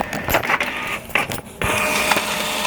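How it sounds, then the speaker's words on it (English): A wireless printer printing a page, with a few clicking and whirring mechanical bursts followed by a steady, loud feed whir close by, no talk. "And it says printing on here."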